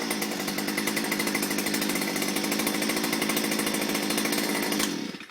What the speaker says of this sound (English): you heard the machine rev up because this clutch is engaged